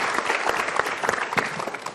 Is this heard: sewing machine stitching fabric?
no